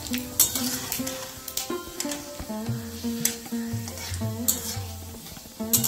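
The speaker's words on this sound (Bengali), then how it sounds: "এবারে দেবো দুটো শুকনো লঙ্কা।" Two dried red chillies fry in hot oil with mustard seeds already popping, giving a steady close sizzle broken by stirring scrapes and clinks of a spatula against the pan.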